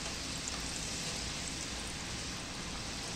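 Coconut and dry fruit karanji deep-frying in oil over medium heat, a steady close sizzling hiss with fine crackling that continues evenly throughout with no voices.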